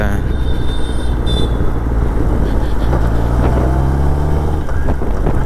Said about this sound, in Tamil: வண்டி கொஞ்சம் வார்ம் அப் ஆகட்டும்